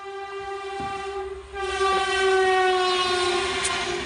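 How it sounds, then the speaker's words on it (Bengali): A train passing close by, with a loud sustained horn tone that swells and holds over a rumbling rolling background, no speech. "এই ট্রেনের জন্য না কিচ্ছু ভালো করে করা যায় না"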